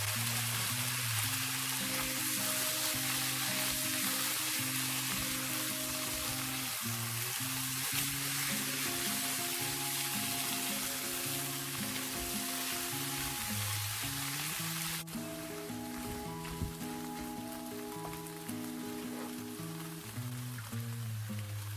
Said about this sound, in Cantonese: 爆香咗啲洋葱之後呢，我哋加埋番茄同埋紅蘿蔔落去